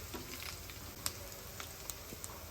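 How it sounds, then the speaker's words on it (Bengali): Onions and garam masala frying in hot oil while cooking chicken with pointed gourd, a steady low sizzle with a few small pops and crackles, no talk. "এখন আমি প্রথমে গরম মশলাগুলো তেলে দিয়ে দেই, তারপর পেঁয়াজ কুচি দেই।"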